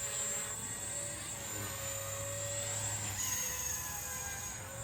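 A Blade Revolution 235 CP RC helicopter hovers with steady rotor whine and high-pitched motor tones that bend in pitch as the tail swings through full left and right rudder, close and continuous, with no talking.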